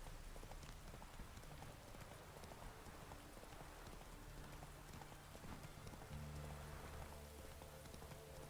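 Roach the horse gallops in The Witcher video game, its steady clip-clopping hoofbeats running continuously over a hiss of rain-like background noise, with no one talking.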